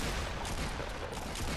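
Dense burst of automatic gunfire in a Fortnite match, continuous rapid shots filling the whole moment, loud and close with no pause.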